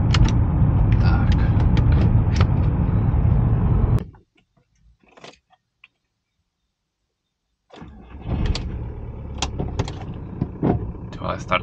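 A Volkswagen Golf 4 with a 1.9 TDI diesel engine, a neglected wreck, runs with a rough clatter, falls silent except for a few clicks, then starts again and settles into a steady idle.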